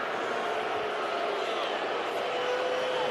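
Broad, steady stadium crowd roar at a college football game between Tennessee and Missouri, a sustained disapproving boo filling the whole moment at even loudness with no break.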